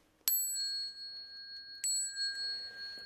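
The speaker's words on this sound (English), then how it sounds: "Bell sound wide resounds throughout 100 million worlds." A bell is struck twice during a Buddhist recitation, each bright metallic strike ringing out clearly and decaying slowly into a quiet room.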